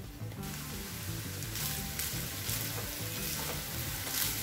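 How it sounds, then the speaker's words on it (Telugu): Egg fried rice with pepper and soy sauce sizzling in a pan as it is stirred, a dense continuous crackle with scraping strokes, close and steady throughout. "తర్వాత మనం తీసుకున్న ఈ పెప్పర్ అలాగే సోయా సాస్ కూడా వేసేసుకుని దీన్ని బాగా కలుపుకోవాలి."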